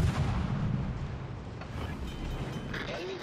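Warship guns firing in a naval battle video game during a solo ranked match, heavy low booming rumble sustained throughout with a few sharper bursts, loud and dense.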